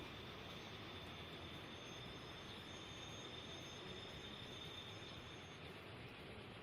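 A freight train rolls past in Transport Fever 2, heading to Detroit on inner-city freight duty: a steady, continuous rumble of wagons with a thin high wheel squeal running throughout, no voices.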